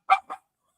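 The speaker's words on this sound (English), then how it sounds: "Mia's barking and Molly's just barking because she's barking." Two short, sharp dog barks in quick succession, the first louder, then silence, close and alone without any talking.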